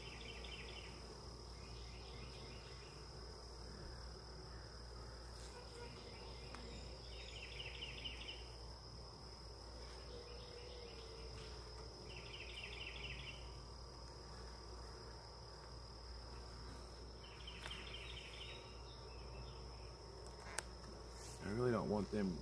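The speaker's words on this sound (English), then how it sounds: "But there's so many bees" Honeybees crowd on comb inside a beehive, giving a steady buzzing drone throughout with small swells of higher-pitched whirring.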